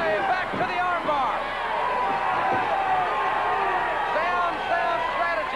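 Steady roar of a large wrestling crowd inside the Tulsa Fairgrounds Pavilion, dense and continuous throughout with a few rising shouts, while a commentator talks over it.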